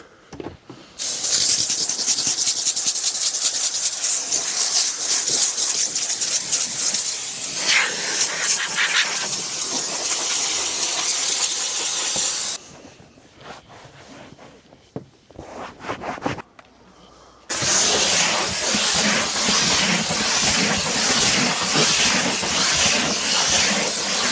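Loud, continuous steam hissing from a steam cleaner used on a Suburban's interior before vacuuming runs for long stretches, cuts out briefly with quieter rustling, then resumes at full strength.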